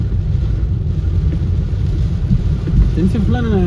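Heavy rain pours in a dense, steady hiss with low rumbling beneath, heard from inside a moving vehicle, with a brief tonal chirp near the end.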